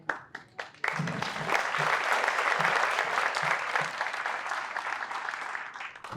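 An audience at a documentary screening event applauds the film's young producers: a few scattered claps open, then a steady, full round of clapping sustains to the end.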